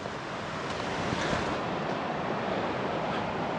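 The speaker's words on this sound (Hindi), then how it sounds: "ये एवलांच आई है ऊपर से और इसके नीचे से पानी जा रहा है" Meltwater rushes beneath avalanche snow in the mountains of Warwan Valley, Kishtwar, making a steady, loud, unbroken broadband roar with no pauses.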